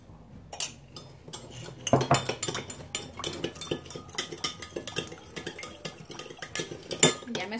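A spoon stirs a sauce of chicken bouillon and sugar for vegetarian lo mein, giving repeated close clinks and scrapes against the bowl in an uneven rhythm, with no talking.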